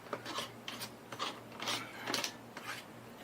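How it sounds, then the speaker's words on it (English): A threaded ring on the gas cylinder of a Cozy Roadie is tightened by hand in a series of quiet ratcheting, grinding twists, about six short bursts close by. "So then I can tighten this ring up"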